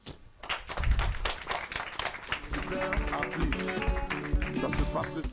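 Audience at a press conference breaks into applause, a dense patter of clapping that swells after a brief pause and carries on steadily for several seconds, with a voice speaking over it.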